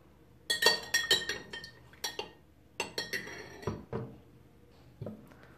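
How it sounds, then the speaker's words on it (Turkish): A metal spoon clinks and scrapes against a glass while thick strained honey is scooped into water, giving a series of sharp, close taps and scrapes in an irregular rhythm without talking. "Şöyle kaşığımla sıyırıp"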